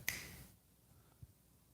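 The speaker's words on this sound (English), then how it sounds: "I'm going to snap my fingers" A single crisp finger snap rings out sharply at the start, followed by a quiet room with a faint soft thump moments later.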